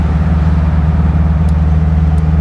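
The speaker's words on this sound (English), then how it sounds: "The popping and sputtering from the Beetle motor." The air-cooled Beetle engine of a 1957 Porsche 356 Speedster replica runs loud and close, a low steady idle with faint irregular pops.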